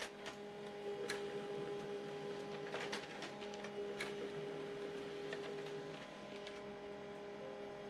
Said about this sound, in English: So you need to wait until it prints out the network report.